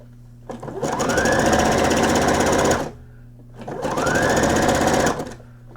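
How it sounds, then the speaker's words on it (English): Sewing machine stitching around the back of a night gown, two sustained runs of rapid, whirring stitches with a short pause between, close and loud. "Continue stitching around the back."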